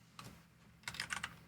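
Typing on a computer keyboard, a few quick keystrokes, then a short burst of several clicks, close and faint in a quiet room.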